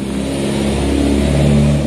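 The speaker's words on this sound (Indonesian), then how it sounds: "Kemudian masih kelihatan di sini itu saya gas sedikit." Four-stroke motorcycle engine with a PWK carburetor and an original GL head nozzle, given a light blip of throttle; loud, close idle rising into a short rev with a steady mid-range drone, no talk.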